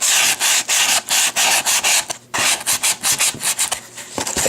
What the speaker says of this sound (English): just to show the sanding sponge, when you have these pieces like this